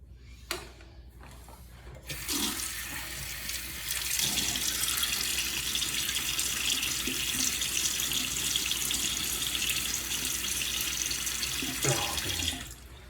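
Tap water runs steadily into a sink for wetting the face before a wet shave, a continuous splashing rush that starts after a couple of seconds and carries on alone until near the end.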